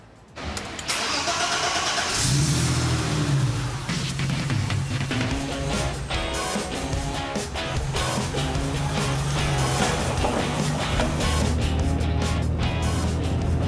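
A restored classic car starts up and then drives steadily, its mid-pitched engine rumbling loud and close with repeated revs. No voices over it.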